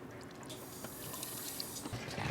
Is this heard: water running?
yes